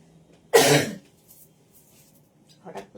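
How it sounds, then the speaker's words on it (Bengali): A single loud cough from a person nearby, a harsh burst lasting about half a second, followed by quiet and then a couple of faint, softer throat sounds. "হঠাৎ করে কাশিটা বাড়লো।"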